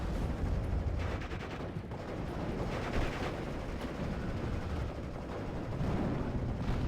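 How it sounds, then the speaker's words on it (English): Off-map artillery barrage in Steel Division 44, a dense, continuous rumble of overlapping blasts and booms rolling on steadily throughout, loud and unbroken with no clear gaps. "More and more off-map artillery is going to be called in. Ooh, we got a nice barrage."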